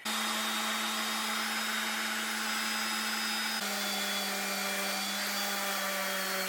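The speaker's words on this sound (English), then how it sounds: "after just maybe a couple minutes at most of sanding, the first sand on this coaster is done" A power sander drones steadily and close by on a wooden coaster, a continuous motorized whine that shifts slightly lower in pitch partway through, with no talking.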